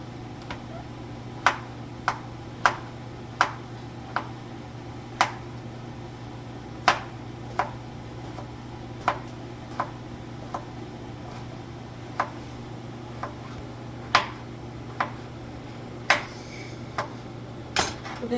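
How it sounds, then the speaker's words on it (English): A knife chops mushrooms into strips on a cutting board, giving sharp, irregular knocks spaced about a second apart over a steady low kitchen hum, with no talking. "Cut some more of them up. Cutting them into strips."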